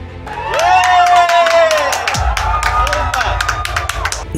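Scientists at the ISRO control centre in Bengaluru applaud during the Chandrayaan-3 lunar mission: dense, loud clapping and cheering voices, with a sustained tone rising at the start and a deep thud partway through.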